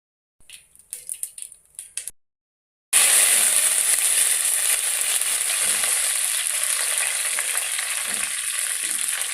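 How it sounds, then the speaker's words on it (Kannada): After a few soft taps, mustard seeds hit hot oil for lemon rice and burst into a loud, sustained, crackling sizzle that continues steadily up close. "ಎಣ್ಣೆಗೆ ಸಾಸಿವೆ ಹಾಕಿ ಈ ರೀತಿ ಫ್ರೈ ಮಾಡಬೇಕು"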